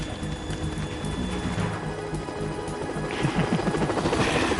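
A helicopter in the video game Metal Gear Solid 2 drones continuously with a steady rotor chop and engine whine, loud and close, building slightly toward the end with no talk over it.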